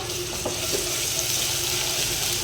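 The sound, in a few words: ginger garlic paste frying in oil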